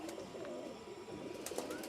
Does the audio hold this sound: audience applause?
no